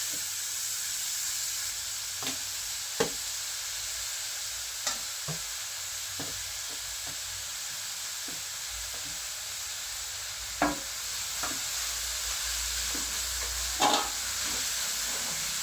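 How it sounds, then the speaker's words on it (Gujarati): Grated carrots roasting in hot ghee for carrot halwa give a steady, even sizzle, with scattered clicks and scrapes from stirring. The frying holds at one level throughout with no voices. "હવે આપણે હલવો ગાજર શેકવા માટે નાખી દઈશું"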